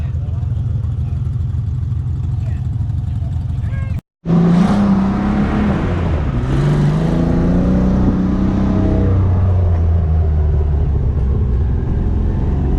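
Ford Bronco engine running off-road, a loud close rumble that drops out briefly then rises with revving and shifting tones, with people talking over it.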